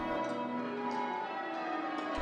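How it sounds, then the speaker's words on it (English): Bells of St David's Cathedral in Hobart ring out together in a rich, sustained harmonious peal, loud and resonant with overlapping tones. "The bells of Hobart's St. David's Cathedral make it clear. They're loud, harmonious, and here to stay."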